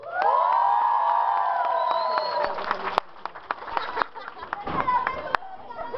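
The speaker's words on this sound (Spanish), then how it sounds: "¡El aplauso para el técnico!" A wrestling arena crowd at a lucha libre match cheers, whoops and shouts loudly and steadily, with scattered claps and sharp bursts breaking through the dense roar.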